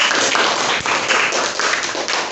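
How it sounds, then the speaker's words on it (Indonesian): Students in a classroom during a civics quiz clap together, a loud, dense burst of hand claps with slight pulsing surges, close and lively, continuing through the whole stretch. "Tepuk tangan untuk kita semuanya"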